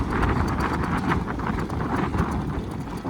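Rapid, rhythmic clip-clop of a mare's hooves trotting close by, loud and continuous with some wind noise.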